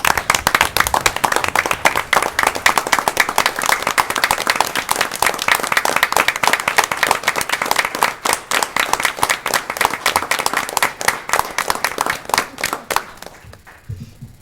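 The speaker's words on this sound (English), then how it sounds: "So if we can please give Mike a big round of applause." Town council meeting audience giving a departing councilman a long round of applause, loud sharp clapping from a roomful of people that gradually thins out and stops near the end.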